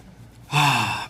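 One person draws a sudden deep, audible breath in, loud and close, following a quiet pause.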